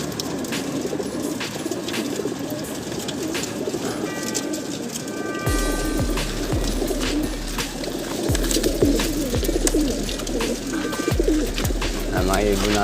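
Racing pigeons coo repeatedly in a loose, overlapping rhythm at a club loft during an early-morning race, with a rumbling background and occasional voices mixed in.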